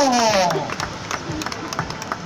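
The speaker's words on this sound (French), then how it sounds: "à chaque nageur qui sort de l'eau, tonnerre d'applaudissements" Scattered clapping greets a swimmer leaving the water at the Agde 2023 open-water swim, with light, uneven claps beneath a voice speaking over a crowd.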